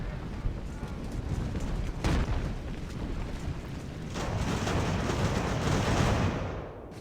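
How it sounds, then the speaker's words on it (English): A mortar firing in the naval and land battle game The Ultimate Admiral: Age of Sail, heavy booming shots and rumbling blasts, one sharp report near the two-second mark and a longer rolling barrage later, under a faint battle din. "that was a close shot from the mortar"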